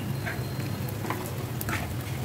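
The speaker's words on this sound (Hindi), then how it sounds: "तो इसको हम इस घी में अच्छे से भून लेंगे" Chunks of gond (edible gum) fry in hot ghee with a soft, continuous sizzle and crackle, quiet and close, with occasional brighter pops and stirring sounds.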